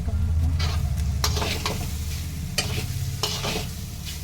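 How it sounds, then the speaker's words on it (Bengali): Sago pulao stirred in a cooking pan, with repeated scraping strokes of a spoon over a continuous sizzle, close and clear, without speech. "এবার নাড়াচাড়া করতে হবে ভালো করে"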